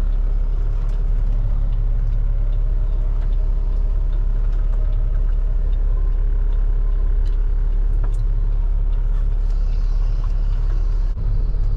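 A Kenworth W900 long-hood truck's engine drones steadily while driving, a loud constant low rumble with road noise and faint clanks, no talking.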